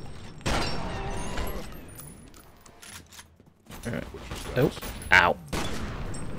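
Enemy rifle fire in the shooter F.E.A.R. Perseus Mandate comes as sharp bursts of shots and impacts, loudest near the end, with a man briefly exclaiming in pain between them.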